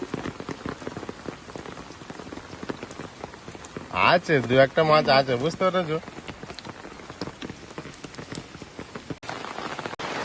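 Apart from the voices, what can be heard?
heavy rain falling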